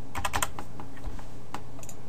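Keys tapped on a computer keyboard while a password is entered: a quick burst of clicks, then several scattered, lighter keystrokes, close and fairly quiet, with no talking.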